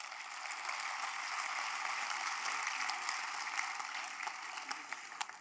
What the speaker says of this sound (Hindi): आपको अच्छा लग रहा है तो एक बार आगे से पीछे तक तालियां बजाइए।